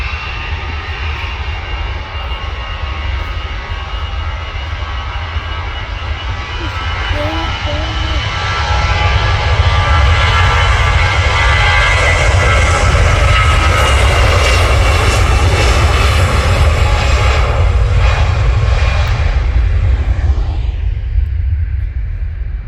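An EasyJet airliner's engines roar at Manchester Airport, a loud, sustained rumbling whine that swells midway, then fades away at the end, with a voice faintly under it.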